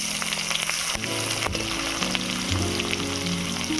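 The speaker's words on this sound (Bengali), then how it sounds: "আদা রসুন পেঁয়াজটাকে লাল লাল করে ভেজে নেব।" Chopped onion sizzles and fries steadily in hot mustard oil with whole garam masala, bay leaf and a dried chilli, a close, continuous crackle with scattered pops of stirring throughout.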